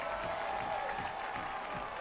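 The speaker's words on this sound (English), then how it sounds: "And they get applause from the crowd." Distant stadium crowd at a Monterey Bay FC versus El Paso Locomotive FC soccer match, applauding as a broad, steady wash of clapping and murmur, faint and far off.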